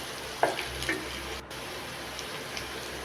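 Ridge gourd with turmeric and salt cooks in a pan, a steady soft sizzle with a few scraping stirring strokes near the start.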